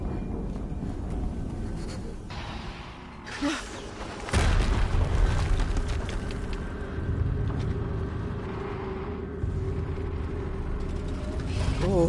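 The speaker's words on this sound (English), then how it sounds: "Another explosion." Explosions in the video game Horizon Zero Dawn boom out in a couple of heavy low blasts with rumbling aftermath, mixed with game effects and ambient noise.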